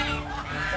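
Pet ducks quack and honk up close in a brief, dense burst of several overlapping nasal calls.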